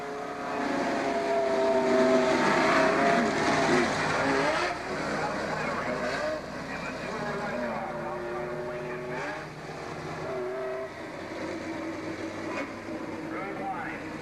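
Race cars on the Star Speedway track roar past together in a dense, continuous engine drone that swells and fades as the pack moves, with an announcer talking over it.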